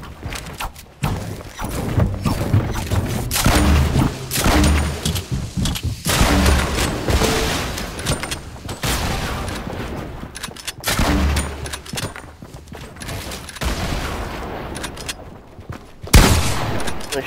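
Continuous Fortnite gunfire during a mini scrim match, loud dense bursts and rapid shots throughout, with heavy thumps and booms layered in and barely a pause.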